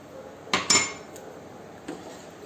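A spoon stirs condensed milk in a pan over a medium flame, giving two quick metallic clinks followed by a softer scrape after a pause, close and clear over quiet background.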